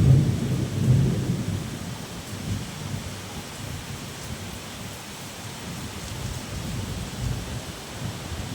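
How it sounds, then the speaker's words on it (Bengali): Heavy evening downpour with thunder: a deep rumble rolls in at the start, then dense, steady rain hisses on for the rest of the stretch, loud and close, with no voices. "সেই ঝুম বৃষ্টির শব্দটা একটু শুনে নেবেন"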